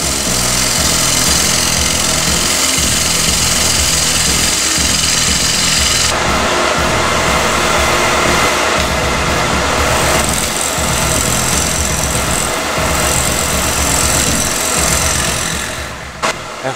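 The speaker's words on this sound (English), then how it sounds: "now back to the wood turning with the bowl gouge" A wood lathe spins a maple bowl as a bowl gouge cuts into it, giving a loud, continuous grinding roar with rough scraping texture that shifts in tone partway through, close up and without talk.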